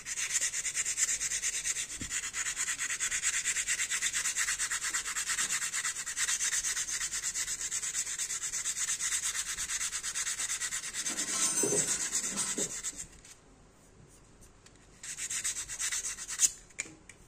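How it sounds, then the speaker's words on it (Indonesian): A wooden part is sanded smooth by hand with steady, close back-and-forth rubbing strokes. The rubbing stops briefly near the end and then resumes. "kita harus amplas lagi"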